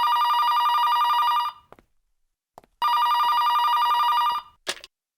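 A telephone bell rings loudly in two long bursts separated by a pause, each ring a bright, buzzing electronic trill, with a faint click or two between them.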